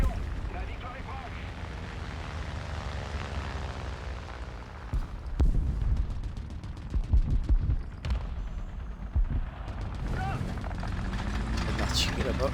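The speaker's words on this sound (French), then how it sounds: "Il y a de l'artillerie là-bas." Artillery fire in War Thunder during a US tank battle at 6.7 lands as several sharp booming blasts in quick succession over a constant low engine rumble. A voice talks over part of the action.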